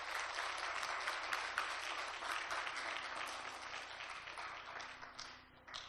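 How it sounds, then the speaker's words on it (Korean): Congregation members in a church give a round of applause, a steady patter of many hands clapping at moderate, fairly distant loudness before tapering off near the end. "우리 박수 한번 드립시다"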